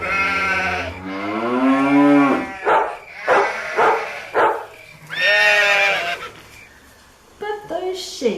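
A voice imitates cows mooing and a horse whinnying for a farm bedtime story, drawn-out lowing calls and a quavering whinny repeated several times, close and loud.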